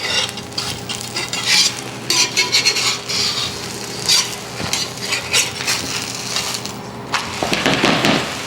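Food sizzles and fries steadily on a Field #9 griddle pan while a utensil stirs, scrapes and clinks against the metal, close and moderately loud, with no talking.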